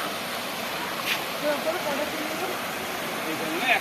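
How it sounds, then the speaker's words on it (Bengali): A waterfall rushes as a constant broadband roar, heard outdoors on a hill trek near a temple on Nilgiri mountain, with faint voices and small sounds over it. "ঝর্ণাটা স্টার্টিং হচ্ছে"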